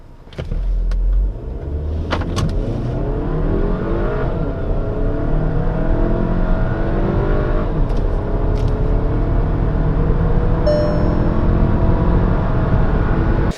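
A tuned Volkswagen Alltrack's TSI engine on stock parts pulls hard under continuous acceleration, its loud droning note climbing repeatedly through the gears over road noise, with brief clicks along the way.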